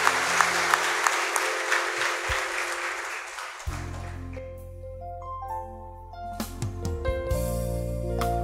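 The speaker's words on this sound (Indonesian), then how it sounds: "Saya minta tepuk tangan dulu buat Tuhan Yesus." An audience claps at a Christian testimony gathering, the applause loud and dense at first, then thinning out as music with a steady tone and piano-like notes takes over.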